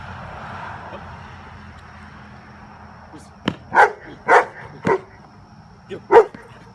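A dog in bite work training gives several short, sharp barks in a loose series after a quiet stretch of low background noise, fairly close and alone.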